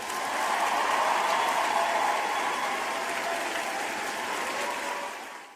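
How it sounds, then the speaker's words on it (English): A steady wash of applause from a crowd, loud and dense throughout, easing off slightly and then cutting out at the very end, with no talk over it. "One more round of applause."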